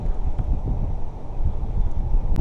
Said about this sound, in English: It's just really dang windy